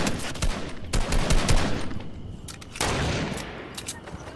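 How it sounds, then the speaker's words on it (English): Rapid gunfire in the video game Fortnite, dense bursts of close automatic shots with sharp cracks, sustained and loud over faint background talk. "someone started shooting at me"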